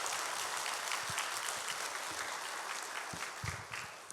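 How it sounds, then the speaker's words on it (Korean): A church congregation at a Wednesday prayer service claps in thanks for a missionary, a soft, steady patter of applause heard from a distance throughout. "우리 귀한 말씀 전해주신 오세훈 선교사님께 우리 감사의 박수 한번 했으면 좋겠습니다"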